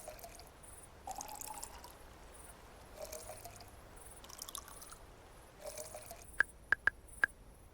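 Soft trickling and pouring water as crops are watered in the cat farming game Snacko, several brief quiet splashes spread out, then a few sharp bright clicks near the end, with no talk.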